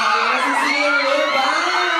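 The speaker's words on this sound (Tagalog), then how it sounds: "Sobrang lakas ng sigawan dito!" A dense crowd of fans at a celebrity event shouts and cheers loudly and continuously, with high-pitched screams and whoops forming a steady wall of sound.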